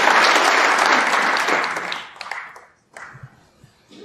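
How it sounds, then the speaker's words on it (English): Audience applause at a snooker final, loud and sustained for about two seconds before tapering into scattered claps and a few quiet taps. "That's the kind of pot we see from Ronnie Osullivan and applaud on a regular basis, so we should do the same for Saengkham"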